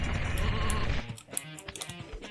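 Cartoon sheep bleats from the video game Sheep, Dog n' Wolf: a few short, clear bleats and clicks ring out alone after a dense second of game music and effects.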